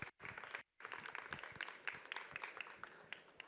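An audience at a book presentation applauds to welcome an archaeology researcher, giving a close, crisp round of clapping with individual claps standing out after a brief pause near the start.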